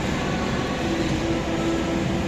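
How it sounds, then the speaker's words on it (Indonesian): The Cikuray passenger train at Kiara Condong station, a steady, loud rumble of railcars with a faint sustained tonal hum running through it and no clear breaks. "Kereta api Cikuray sudah mulai persiapan diberangkatkan dari stasiun Kiara Condong."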